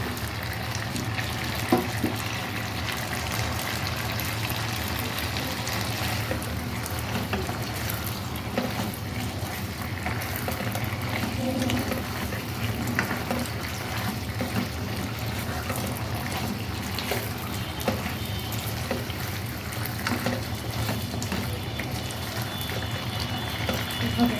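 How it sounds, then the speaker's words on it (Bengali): Fried chicken pieces simmer and bubble in a hot, spicy Korean-style sauce, making a continuous steady bubbling and sizzling hiss close up, unchanging throughout with no talking. "ভাজা মাংসগুলো দিয়ে দিচ্ছি"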